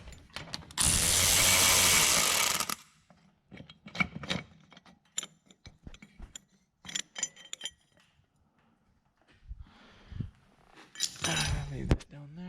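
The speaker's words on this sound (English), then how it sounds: "And definitely take that top bolt off now." A ratchet clicks in short bursts as it backs out the top bolt on a 2007 Chevy Silverado 1500 rear axle, with metal clinks, a loud blast of noise near the start and a voice talking between the bursts.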